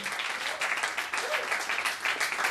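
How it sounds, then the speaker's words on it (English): Dense, sustained audience applause from a cabaret crowd, a steady wash of many hands clapping with some cheering mixed in, filling the whole moment at a lively, even level. "A round of applause to Mr. David Bowie, who was 65 this week."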